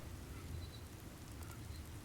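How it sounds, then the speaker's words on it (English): Steady rain in the video game Starfield at a shuttle crash site, a continuous soft hiss with low rumble and no voices. "It's raining."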